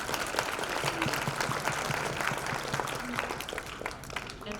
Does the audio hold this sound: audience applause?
yes